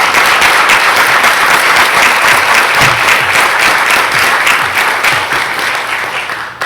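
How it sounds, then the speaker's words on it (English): Loud, dense applause from an audience at a school board meeting, steady clapping filling the room and tapering slightly toward the end. "you deserve a round of applause"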